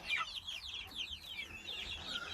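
Chickens in a chick cage give soft, quiet clucking and chirping calls that repeat steadily throughout, with no talking over them.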